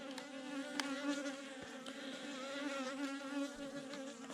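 Bees buzz steadily inside a small Apidea nuc hive, a close, continuous wavering drone of many wings with occasional brief ticks, no voices.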